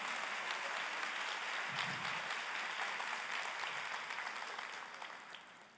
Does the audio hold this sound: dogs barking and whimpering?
no